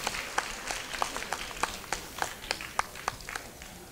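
Scattered applause from an event audience for a Hakka traditional folk song performer, sparse individual claps at uneven intervals, fairly faint and distant, with no talk over it.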